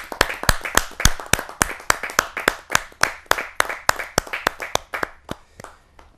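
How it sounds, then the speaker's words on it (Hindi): Audience clapping at a Hindi kavi sammelan poetry gathering: a sparse run of distinct, sharp hand claps in a fairly steady rhythm, loud and close, thinning out toward the end with no talk over it. "जोरदार तालियों के साथ"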